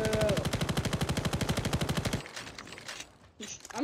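Rapid, steady automatic gunfire in a battle-royale shooter game, a fast even string of shots for about two seconds, then the firing stops and faint game sounds follow.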